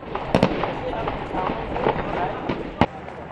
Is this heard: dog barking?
no